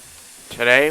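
The LNER A1/A3 steam locomotive Flying Scotsman lets out a sudden loud hiss of steam that swells in after a moment of quiet and holds to the end.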